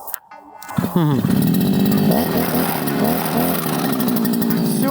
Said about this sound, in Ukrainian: І все, коса у вас працює.